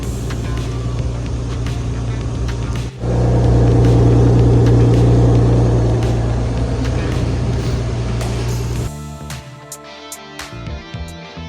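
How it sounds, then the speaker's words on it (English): A BMW E36 drives off on a road test after a carrier bearing replacement, its engine droning steadily and swelling louder partway through, then easing down near the end. "So now we're gonna drop the car down and go do a test drive."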